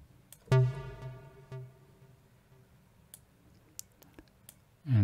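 A single plucked synth note from Arturia Pigments with ping-pong delay, a bright, sharp attack that rings out and repeats in fading echoes, followed by quiet clicks and a second pluck starting at the end.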